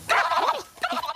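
Cartoon dogs bark and yelp in a kids' animated episode about an out-of-control dog wash: a loud run of high, bright woofs followed by a second shorter burst, close and alone.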